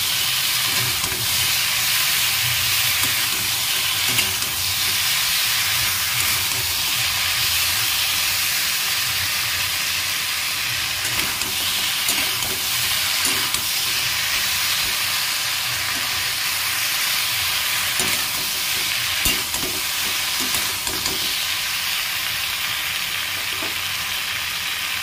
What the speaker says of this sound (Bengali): প্রথমে আমি ঢেঁড়স আলুটা কুটে নিয়ে তারপরে ঢেঁড়স আলুর তরকারিটা বসিয়ে দিয়ে তারপরে আমি রুটিটা বানাবো।